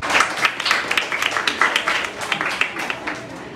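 Schoolchildren at a school quiz competition clap in quick, uneven bursts, a lively patter of hands that rises and falls and fades slightly toward the end, with voices mixed underneath.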